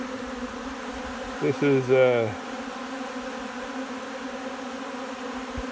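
Bees buzz around a feeder set out near their hive, a steady low hum with a louder, wavering buzz close by for under a second, while a voice speaks briefly.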